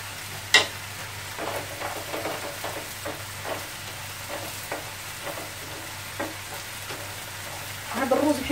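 Fish sizzles in a pan for a fish paella, a soft continuous frying hiss with occasional stirring scrapes and clinks, quiet and without talk.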